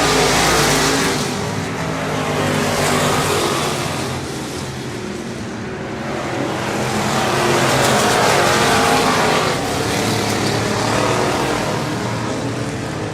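Race cars roar continuously around the turns of the Cotton Bowl Speedway, loud and sustained, with the engine note swelling and fading as the pack passes and faint tire noise throughout.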